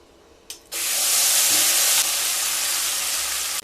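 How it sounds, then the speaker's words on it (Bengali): Butter hitting a hot kadai on low heat while making ghee, a sudden loud burst of hissing sizzle that holds steady and bright for several seconds, close and alone. "এবার স্টিমটাকে লো করে মাখনটা দিয়ে দেব।"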